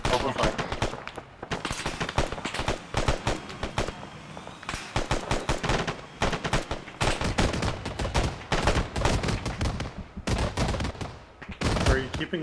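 Dense infantry firefight in Arma 3: rapid bursts of automatic and single-shot gunfire, loud and close, crackling almost without pause for twelve seconds, with faint voices underneath.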